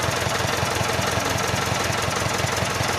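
An overhauled Isuzu 4BA1 diesel engine runs steadily, a loud close rumble with a fast, even knocking pulse throughout and no pauses or voices.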